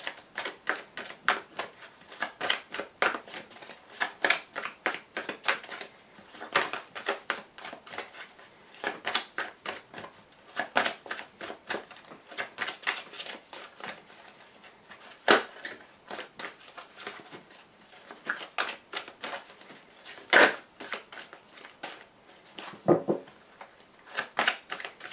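Tarot cards are shuffled and drawn over and over in a quick, steady riffle of papery flicks and slaps. It is close and fairly soft and goes on alone without speech.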